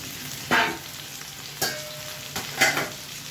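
Tomatoes frying alongside pompano fish in a pan, a soft steady sizzle broken by four quick scraping stirs of a utensil, close and fairly quiet with no talk.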